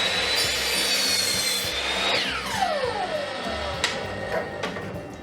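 A reclaimed wood board is sawn by hand, giving a close, loud, continuous rasping with steady back-and-forth strokes and a high whine sweeping down midway.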